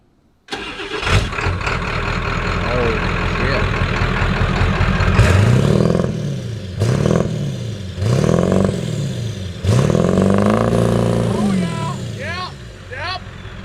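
A Ford F-350 7.3-liter Powerstroke diesel truck engine cranks, fires up and settles into a loud idle, then revs hard several times in a row. Voices come and go over it.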